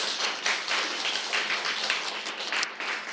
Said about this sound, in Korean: 형제님께도 또 감사의 박수를 좀.